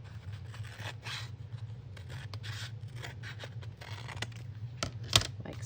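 Scissors snip through a paper seed packet, giving a run of close, crisp cutting and rubbing strokes with a sharper snip near the end.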